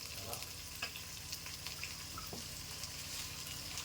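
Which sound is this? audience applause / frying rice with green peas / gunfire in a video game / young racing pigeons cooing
frying rice with green peas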